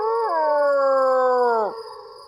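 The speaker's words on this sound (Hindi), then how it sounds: "काली अंधेरी रात है, कुत्ते रो रहे हैं।" A single dog howling at night, a near, clear, sustained tonal wail holding steady before bending down and breaking off into a lower trailing note, no talk.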